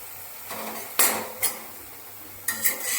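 A spoon scrapes and clatters against a pan as spice paste is stirred for vegetarian potato dum, with a few sharp metallic knocks and scrapes over a quiet background.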